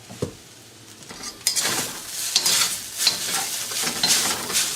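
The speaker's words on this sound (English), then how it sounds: "So we're just going to sear the noodles right now." Noodles sear and sizzle in a hot wok with salt added, while a metal utensil scrapes and stirs them in steady, close strokes over a continuous frying hiss.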